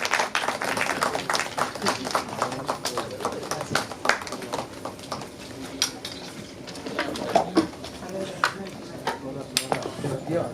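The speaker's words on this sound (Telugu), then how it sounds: "అందరూ చప్పట్లతో వాళ్ళని ఆశీర్వదించండి" Scattered clapping from an audience at a Telugu film press meet, a dense patter of many hands rising and falling over about ten seconds, with voices talking underneath.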